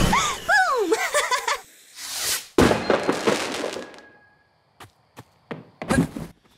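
Rocket explosions in the Figment 2: Creed Valley video game, a loud burst of booms and crackling blasts with scattered sharp impacts trailing off, over a soundtrack and voice effects.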